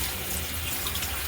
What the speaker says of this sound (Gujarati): હું સીધું નળે જ ધોઈ નાખું